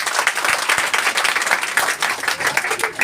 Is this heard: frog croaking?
no